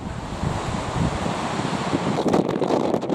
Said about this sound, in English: Particularly strong gust happening at the moment.